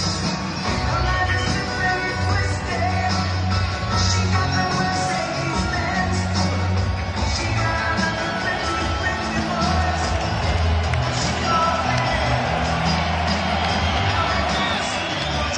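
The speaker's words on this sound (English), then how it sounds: "we'll hear the ovation now as he makes his way into the ring." Arena crowd roars and cheers as heavyweight boxer Derek Chisora walks to the ring, a continuous loud wash of shouting and whoops with music-like drones underneath throughout.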